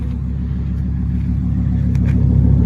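A Volvo 850 T5 engine idles with a deep, steady exhaust burble, a low rumbling pulse heard up close that swells slightly louder toward the end.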